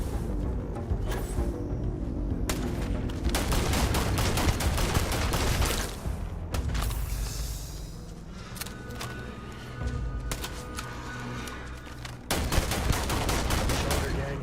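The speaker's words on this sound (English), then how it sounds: "Shoot your gun, buddy." Gunfire from companion Sam in Starfield, a long run of close, loud bursts and repeated shots with brief pauses between volleys, and a voice talking faintly at points.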